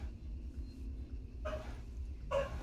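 A dog barks twice in the background, short separate yelps over a steady low hum from a video game.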